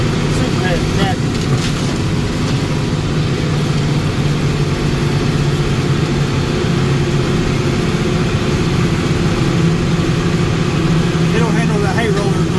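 A super heavy farm tractor without front weights idles nearby with a steady low diesel rumble, continuous throughout, while people talk over it.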